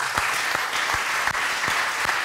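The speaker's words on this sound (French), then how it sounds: "On peut l'applaudir." An award ceremony audience applauds a young singer, dense continuous clapping from a large crowd filling the hall, with a few sharper individual claps standing out.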